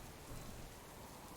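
Steady rain falls in the survival video game Subsistence as a faint, even hiss that continues without a break for a moment, with no voices.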